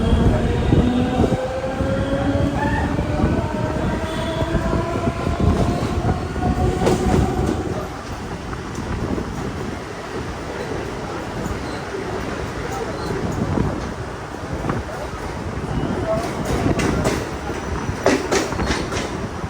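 Mumbai local train picking up speed, seen from aboard, with continuous loud rail rumble, rhythmic clickety-clack and rising wheel tones over roughly twenty seconds. Brief squeals cut through the roar.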